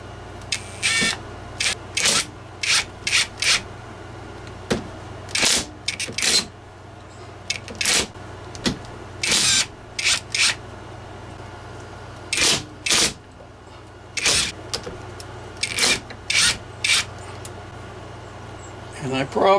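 A wrench working on steering parts being taken apart: repeated short, sharp ratcheting bursts in clusters, close and crisp, with pauses between sets.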